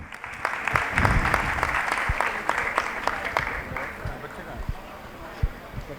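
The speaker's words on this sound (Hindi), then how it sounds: "तालियां बजाते रहें बच्चों के लिए।" An audience claps at the 21st Jain Scholars Award 2023 ceremony as children receive awards, sustained crisp applause with scattered sharp individual claps, while someone speaks over it through a loudspeaker.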